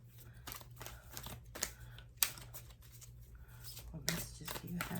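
Tarot cards are shuffled in soft riffles and scattered slaps, with a few sharper snaps, under a faint steady hum and quiet talk.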